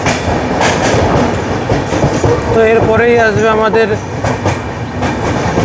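The Puri Sealdah Duronto Express rolls along the rails past Bally Halt station, heard from inside a first-class cabin as a steady loud rumble with rhythmic clatter, while someone talks over it.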